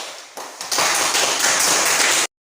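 Schoolchildren in a classroom clap for a student group that has just presented its work, starting with a few scattered claps, then swelling into loud, dense clapping before it cuts off abruptly.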